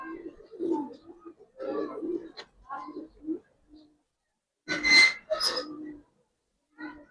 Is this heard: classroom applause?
no